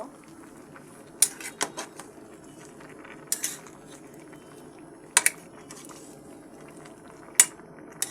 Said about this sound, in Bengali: আমি এবার সবজিটাকে একটু নেড়ে দেব।